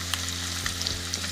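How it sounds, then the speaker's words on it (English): Cheetos fry in a hot skillet with a loud, dense, continuous sizzle and crackle, steady and close, under a low electrical hum and with no voices. "Let's throw them in the skillet."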